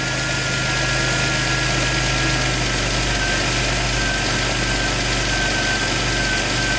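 A car engine idles steadily with a constant low rumble and slight vibration, no voices, close and fairly loud throughout.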